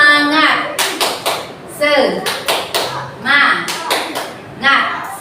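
A class of children performs a rhythmic cheer clap, sharp claps falling in repeated short groups while young voices chant in time between them.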